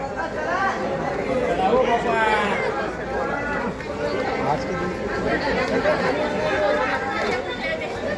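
Crowds of people talk all at once on the crowded temple steps of Mahurgad fort, a constant close babble of overlapping voices with occasional nearer voices rising above it.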